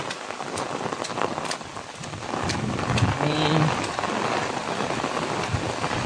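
Rain showers fall steadily in the Konkan, pattering densely on surfaces nearby and swelling a little partway through, with a brief spoken word mixed in.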